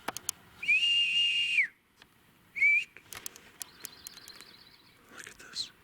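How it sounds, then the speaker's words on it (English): A person whistles several sustained and sliding notes in a sparse, stop-start pattern, with short pauses and a few faint clicks and background sounds between the tones. "I just got to whistle."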